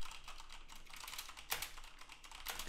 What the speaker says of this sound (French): le test avec clavier mécanique équipé de switch MX Red